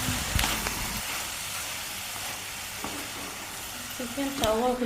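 Chopped tomatoes drop into a chicken curry with fenugreek leaves and fry in a steady close sizzle, with stirring scrapes and clinks.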